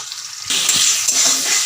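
Tomato, onion and green chillies frying in a pan burst into a loud broadband sizzle midway and hold it steadily, with faint stirring scrapes underneath.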